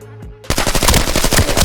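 A brief tone, then a rapid burst of automatic gunfire in the video game Arena Breakout: Infinite, loud and close, firing continuously to the end.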